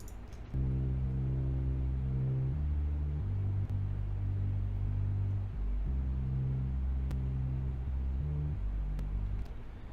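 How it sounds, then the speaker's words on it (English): Deep 808 bass notes run through bus channel effects in a beat, loud and sustained, shifting pitch every second or two in a steady pattern with faint clicks on top. "now let's hear the bass sound one more time with the bus channel on"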